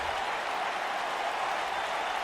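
An indie wrestling show crowd claps and applauds in a steady, dense wash of hands that holds even and fairly loud across the whole stretch.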